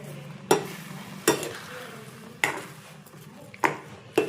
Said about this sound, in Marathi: तर यामध्ये साखर टाकायचा आणि त्याला चांगलं शिजू द्यायचं.